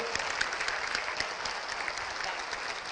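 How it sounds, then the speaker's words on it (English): Audience applause after a Jefferson County team is introduced at a physical education talk, steady dense clapping from a crowd that holds evenly for the whole span. "So give these guys a big round of applause"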